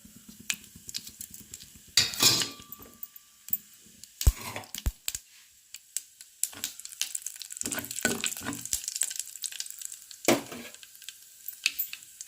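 Mustard seeds and cumin seeds fry in hot oil in a pan, giving a steady crackle with scattered sharp pops and occasional louder bursts of sizzling and spoon clatter, close and without talk.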